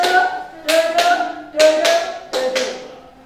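Hand claps counted out as solfège notes in an Indonesian music lesson: six sharp claps in uneven pairs, each with sung or chanted voices holding a pitched note over a quiet room.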